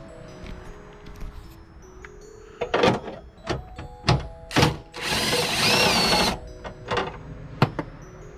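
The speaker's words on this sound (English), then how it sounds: "The drill makes the job way faster, but sometimes you got to be careful when you're tightening stuff." Cordless power drill tightening fasteners on the trunk of a 2008 Dodge Charger RT Daytona, several short close whirring bursts followed by one longer sustained run, with quiet gaps between.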